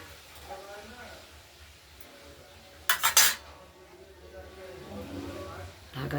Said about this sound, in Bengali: ঢাকা দিয়ে দিলাম, দেখতে থাকুন।